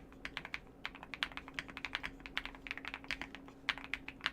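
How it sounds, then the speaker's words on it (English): Typing on a QK100 mechanical keyboard gives a quick, uneven run of crisp clacking keystrokes, close and moderately loud, with short pauses between bursts and a faint steady hum underneath. "nice sounding keyboard."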